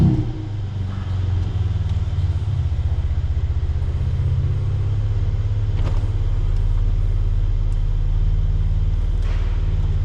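Mercedes SL400 AMG Line convertible idling steadily with a low, even engine rumble close by while the roof lowers, faint mechanical whirring over the constant hum and no talking.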